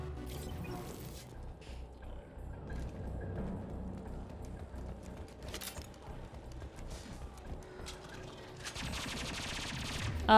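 Gunfire from Mass Effect 2 crackles faintly and intermittently in the background, scattered bursts of shots over low game ambience, with a louder volley near the end.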